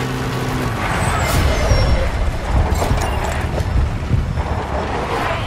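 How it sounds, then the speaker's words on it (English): In Metal Gear Solid V, a truck comes to a halt with a hiss of air brakes and engine rumble, close and fairly loud, its engine settling afterward. "I think the truck has stopped, guys."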